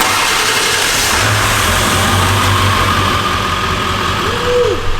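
A turbocharged truck with no catalytic converter or muffler, exhaust dumping under the passenger side door, revs loudly and close, a steady deep raw engine drone that swells and falls near the end.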